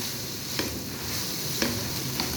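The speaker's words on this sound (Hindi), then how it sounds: "गाजर जो है वो अच्छे तरीके से इसको फ्राई भी करना है" Carrots frying in a pan for pasta sauce, giving a continuous close sizzle with a few soft clicks of stirring, and no voices.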